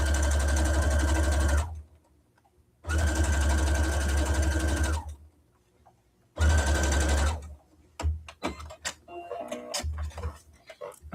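A home sewing machine stitches a small reversible tote bag in three steady motor bursts separated by pauses, close and clear, followed by light handling clicks and rustles of fabric.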